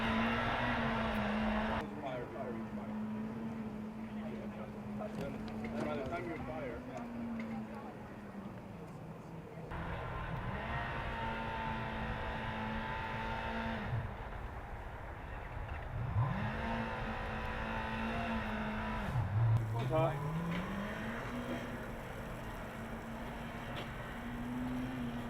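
Formula Student race car 218 from Stralsund circles the skidpad, its engine droning steadily and then dipping and climbing again through several loops, loud at moments and fading at others. Commentary runs over it throughout.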